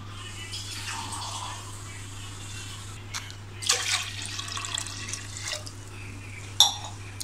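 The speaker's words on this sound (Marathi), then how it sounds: "आपल्याला 2 ग्लास छान असं पाणी टाकायचं आतमध्ये" Water pours steadily into a metal pressure cooker, with a few splashy bursts and clinks near the end.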